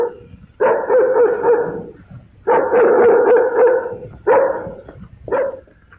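A dog barks and growls in four loud, close bursts of rapid barking separated by short pauses, with no talk, in a 1951 Hindi romantic film.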